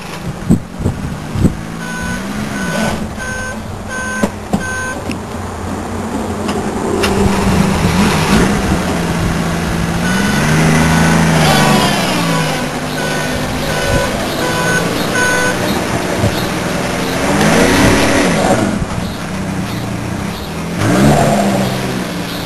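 A supercharged Dodge engine runs close by, idling and then revving in several swelling bursts, with faint beeps early on and no speech.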